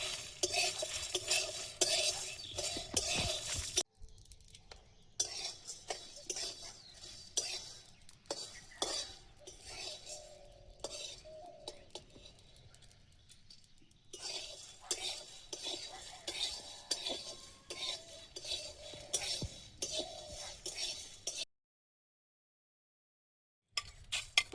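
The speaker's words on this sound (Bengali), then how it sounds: "ধনে, গোলমরিচ প্রথমে ভাজছি" Coriander seeds and black pepper dry roasting over a low flame, stirred with a metal spoon that scrapes and clinks against the pan in bursts, with a faint sizzle and a few brief silent gaps.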